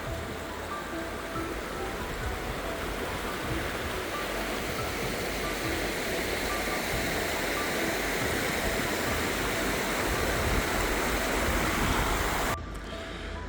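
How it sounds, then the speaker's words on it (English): A noisy mountain river in Glencoe rushes in a constant, loud roar beside a walking route, continuing without pause until it cuts off abruptly near the end. "The river was quite noisy back there."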